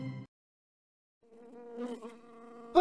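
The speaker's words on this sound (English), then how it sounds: "I believe that busily buzzing bee is hungry." A cartoon bee buzzes in Disney's Ready For Math with Pooh game, a steady, moderately loud drone that starts after a short pause and holds to the end.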